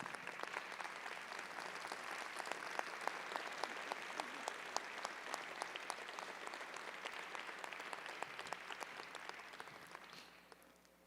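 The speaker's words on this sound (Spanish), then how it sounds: "Dale un fuerte aplauso a Dios." Applause from a church congregation, quiet and distant, with a steady patter of many hands and sharper individual claps standing out, gradually thinning and fading away near the end.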